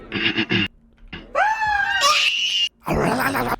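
Yarnaby, a creature in a horror video game, lets out shrill wailing screams in several bursts, loud and close, with short gaps and rough vocal noises between them.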